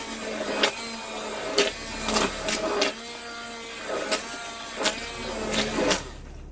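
Electric hand mixer whirring steadily as it blends a batch of homemade liquid soap, its motor hum broken by repeated sharp clicks and knocks of the beaters against the bowl, close and fairly loud, with no talking.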